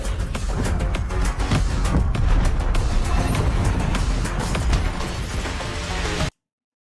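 Tank cannon fire and explosions in a video game make a dense, loud barrage of booming bursts and crackling impacts for about six seconds, then cut off abruptly.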